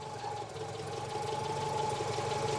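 Citroen GSA engine running after a new alternator has been fitted, a steady close idle hum with faint rhythmic knocking and a little voice nearby.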